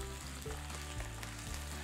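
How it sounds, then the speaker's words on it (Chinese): Steak pan-frying at medium-low heat alongside potatoes and garlic, giving a soft, steady sizzle close up, with no talk. "这里在煎牛排的同时，旁边来煎这个马铃薯"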